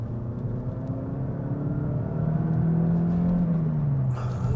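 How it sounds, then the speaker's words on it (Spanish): A Mazda Skyactiv-X petrol engine drones and climbs in pitch under full throttle, a steady rising rumble from inside the cabin with no talking. "Estoy acelerando a fondo."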